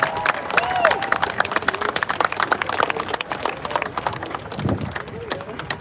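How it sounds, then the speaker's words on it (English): A rally crowd applauding and cheering, a dense wash of many hands clapping with voices shouting over it, loud and steady throughout before easing slightly toward the end. "Give yourselves a round of applause, ladies and gentlemen"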